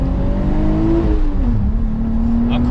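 A Nissan Skyline 350GT engine revs loudly and close up, its pitch climbing and then settling into a steady drone, with no voices over it.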